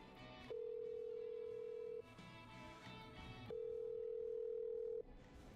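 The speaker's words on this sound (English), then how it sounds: "Okay, I'm dialing." A telephone call is placed in the video game Killer Frequency: a steady electronic tone sounds for about a second and a half, falls silent, then sounds again, over a faint background hum.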